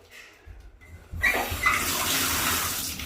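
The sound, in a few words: water draining in bathroom of abandoned house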